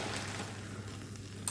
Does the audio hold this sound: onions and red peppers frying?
yes